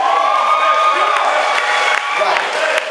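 A live comedy-show audience breaks into loud, close applause and cheering, with whoops and shouts over steady clapping, fading slightly near the end.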